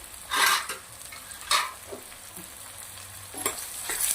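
Onions sauté in ghee with a pinch of asafoetida, producing a soft, low hiss broken by three or four louder sizzling bursts as the pan is stirred, close by with no voices.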